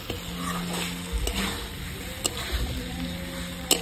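Paneer is stirred and fried in a gravy for palak paneer in a pan, giving a steady moderate sizzle with occasional spatula knocks and scrapes against the pan, close by.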